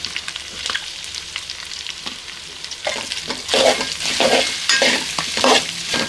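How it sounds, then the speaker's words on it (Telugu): Thinly sliced onions and curry leaves frying with snails in a village-style pan, loud crackling sizzle with repeated stirring scrapes that grow busier and louder toward the end. "సన్నగా తరిగిన ఆనియన్స్ ఇందులో వేసుకొని వీటితో పాటుగానే కరివేపాకు కూడా వేసుకోవాలి"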